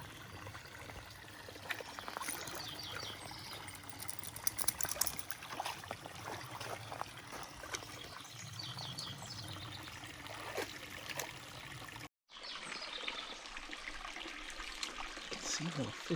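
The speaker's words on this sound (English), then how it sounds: "So as we get further down, there is some water in the creek." Water trickles and babbles steadily along a shallow mountain creek on Figueroa Mountain, a continuous close rushing wash with a brief dropout near the end before the flow resumes.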